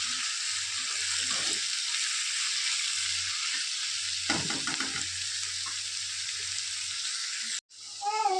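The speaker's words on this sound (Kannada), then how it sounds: "ಟೊಮೆಟೊ ಸ್ವಲ್ಪ ಫ್ರೈ ಆಗಬೇಕು." Tomatoes sizzle and fry in a pan for a chicken sausage chilli dish, a steady hiss broken by a few stirring scrapes near the middle, then a brief sharp change at the end.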